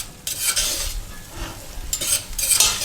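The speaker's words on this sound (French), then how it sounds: "Donc tu mélanges bien." Chickpeas stirred in a cooking pan, producing scraping, rattling bursts of utensil against metal with a faint sizzle between strokes, close and fairly loud.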